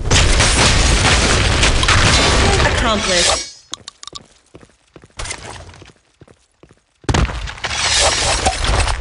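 Grenade blasts in the online shooter BlackShot, loud booming explosions with shattering debris, then a quieter stretch of scattered clatter before another heavy blast, with a game voice calling out between them.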